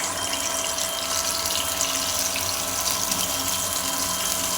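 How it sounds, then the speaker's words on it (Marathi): Water is poured into a pan of traditional Konkani-style stuffed bitter gourd curry made with pre-boiled gourds, a steady rushing splash that runs evenly for several seconds with no voices. "याच्यामध्ये आपण हे थोडंसं पाणी ॲड करून घेऊया"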